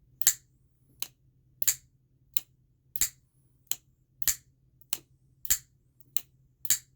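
A Spyderco Manix 2 folding knife with a caged ball bearing lock flicked open again and again, giving about ten crisp, sharp snaps in a steady rhythm, close and clear over a faint low hum, with no talking.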